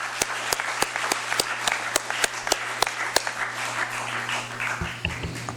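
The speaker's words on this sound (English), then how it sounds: "applause" Audience applause in a legislative session chamber, moderately quiet, with a few sharp individual claps standing out in a steady rhythm over a soft crowd clatter and a low hum, tapering off near the end.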